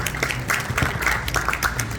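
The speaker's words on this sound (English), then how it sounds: "Round of applause." An audience at a community event applauds, with scattered, moderate hand clapping in a room, fairly faint and sparse over two seconds.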